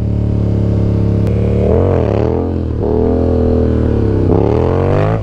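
A Yamaha MT-07 motorcycle engine during stunt practice, loud and close, idling and revving in rising and falling swells throughout.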